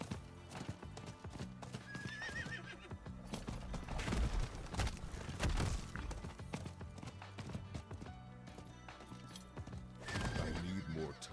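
A horse ridden in the video game Diablo 4, with steady clip-clop hoofbeats and a neigh, loud and continuous, carried over game sounds without speech.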